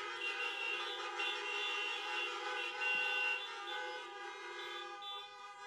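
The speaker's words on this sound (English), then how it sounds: "can we honk our horns in gratefulness and thanks to them." Car horns honking together at a drive-through high school graduation parade, a sustained chorus of overlapping toots from several vehicles held for several seconds, fairly loud and without speech.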